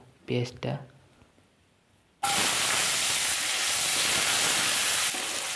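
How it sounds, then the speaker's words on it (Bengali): Onions drop into a fully heated kadai of oil with bay leaf, dried red chilli and whole cumin, erupting into a loud, continuous sizzling hiss after a short stretch of quieter sound with brief voice-like bursts. "এবার পেঁয়াজটাকে দিয়ে দেব।"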